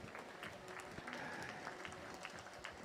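An audience applauds at the Swim England East Region Long Course Championships, honouring a regional president in a large hall. The clapping is dense and sustained for about three seconds, with a voice faintly beneath it.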